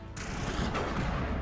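Rapid bursts of automatic weapon fire from the sci-fi shooter game Mass Effect crackle continuously and fairly loudly, dense and unbroken for a brief moment.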